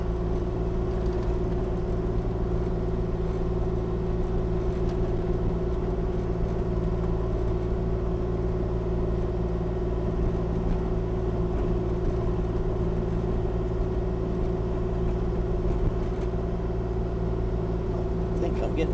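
Kubota KX040 mini excavator pushing snow, its engine a steady, even rumble with a droning hum that stays constant and close, with someone talking over it at times.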